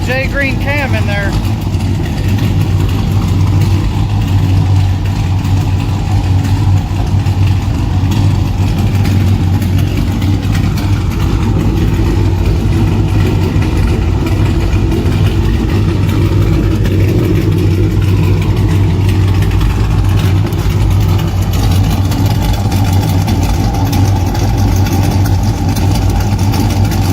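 A Ram 5.7 Hemi with straight pipes, 5-inch exhaust tips, JBA long-tube headers and a Greene cam idles loudly and steadily with a deep, lumpy burble that barely changes for nearly half a minute.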